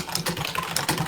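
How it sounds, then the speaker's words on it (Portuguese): Someone typing on a computer keyboard, heard as a quick run of light, close key clicks and taps, brief and with no talk. "O teclado do Miguel."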